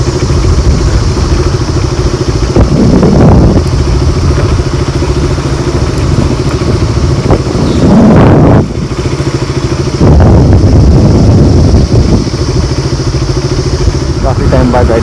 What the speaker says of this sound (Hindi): काफी टाइम बाद बाइक पे निकला हूँ आज